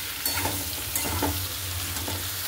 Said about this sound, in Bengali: তো এই যে ঝিঙেগুলো দিয়ে দিই, এটার সাথে এটা ভালো করে ভেজে নিই